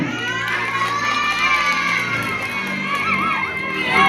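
A crowd of schoolchildren shouts and cheers loudly and continuously as a class anti-bullying ambassador is called forward, with scattered clapping mixed into the roar.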